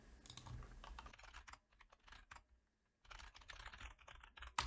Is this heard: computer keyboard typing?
yes